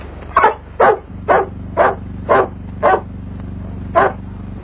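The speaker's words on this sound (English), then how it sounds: "That's no wolf, it's a dog." A dog barks outdoors after rain, seven sharp, evenly spaced barks over a low steady background hum, fairly loud and close, with no voices.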